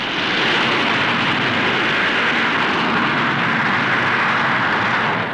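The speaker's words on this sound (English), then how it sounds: "is a delta wing research machine powered by 5 Rolls-Royce jets" A delta-wing research aircraft powered by five Rolls-Royce jet engines roars loudly and steadily at an air show, a broad continuous jet rush holding the whole time with no voices.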